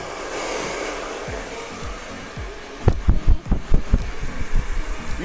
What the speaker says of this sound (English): let me blow off her hair